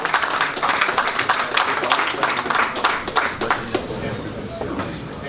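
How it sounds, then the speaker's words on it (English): A boxing press conference crowd claps and applauds steadily, fading toward the end, while an announcer talks over the clapping. "A round of applause"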